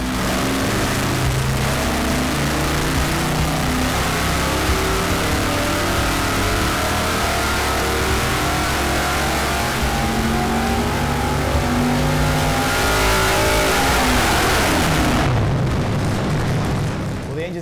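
Engine fitted with a Dart top end kit and hydraulic roller setup, revved hard toward 6,500 RPM on a test stand: loud, sustained roaring that climbs and holds before dropping off abruptly near the end.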